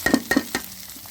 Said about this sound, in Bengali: এখন আমি দেবো পেঁয়াজ